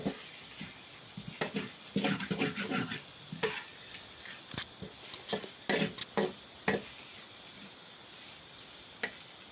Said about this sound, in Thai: เราไปตามมันด้วยเส้นลงไปผัดต่อเลยครับพี่น้อง